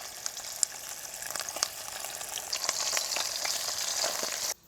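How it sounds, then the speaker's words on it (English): Possum legs frying hot in rendered deer fat out in the bush, a busy close sizzle with crackling pops and spits that builds slightly louder before cutting off abruptly. "we're just putting a bit of colour on it, frying it nice and hot"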